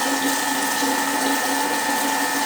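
Thermomix whisking mascarpone whipped cream at speed 3.5, a steady loud motor whir with a constant whine, unbroken for the whole stretch with no talking.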